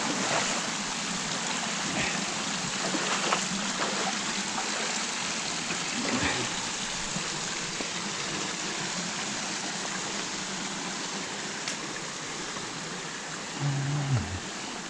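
River water flows between cliffs in a steady broadband rush, continuous and fairly close, with faint clicks and brief speech sounds now and then above the flow.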